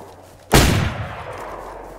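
A single loud gunshot from the video game DayZ cracks sharply, then a long echoing reverberation decays over the next second and a half with no talk.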